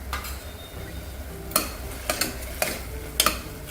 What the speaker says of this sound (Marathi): आता हे थोडं परतून घ्यायचं आहे.